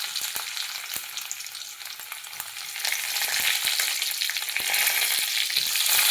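Cumin, mustard seeds and garlic hit hot oil in a kadhai, crackling and sizzling steadily with sharp pops, growing louder and denser toward the end, close and without speech.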